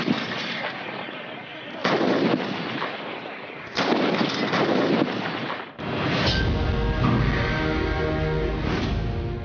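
An artillery cannon fires three heavy booms in turn, each loud blast followed by a long rolling echo outdoors, with a voice shouting the order to fire.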